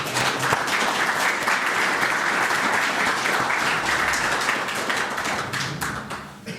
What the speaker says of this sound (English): So an applause, please, for the panel.